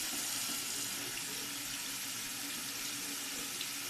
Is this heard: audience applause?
no